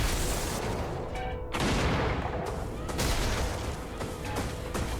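Bombs dropping and detonating in the video game Brigador, a continuous roar of explosions and rumbling blasts with scattered sharp bangs, loud and dense throughout.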